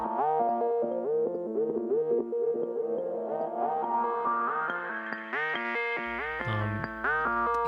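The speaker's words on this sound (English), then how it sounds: "The next one is a granular effect." Synthesizer notes stepping in a steady rising sequence through a granular effect, smeared and layered into a shimmering, grainy texture with overlapping tones throughout.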